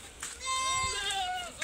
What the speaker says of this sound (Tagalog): Nagwawala na yung mga kambing natin